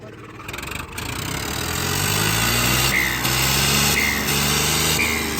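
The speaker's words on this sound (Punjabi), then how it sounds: "ਜਿਹੜੇ ਹਿਸਾਬ ਨਾਲ ਰੇਸ ਆ ਰਹੀ ਹੈ ਸੂਈ ਤਾਂ ਭੱਜਦੀ ਹੋਣੀ ਹੈ" A turbocharged Ford tractor engine revs hard and holds a steady, loud roar, with a sharper rise just after the start.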